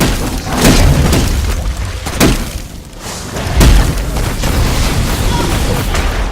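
Vulcan's ultimate ability in the Smite video game lands as a series of heavy, loud booms and thuds within dense, chaotic game action.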